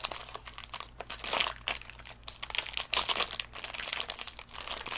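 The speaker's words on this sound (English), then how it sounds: "Sorry for the crinkling again." Plastic packaging crinkles and crunches as it is handled and pulled open, loud and close, in irregular bursts with no talking.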